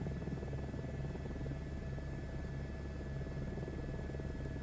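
A helicopter in Microsoft Flight Simulator 2024 flies low over scenery with dinosaurs, its engine a steady droning hum with a rotor buzz, unchanging and close throughout.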